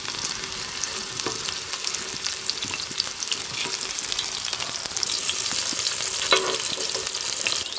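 Raw mango pieces, skin still on, fry in hot oil with a loud, dense, continuous sizzle that crackles steadily throughout and grows slightly stronger toward the end, with no voices over it.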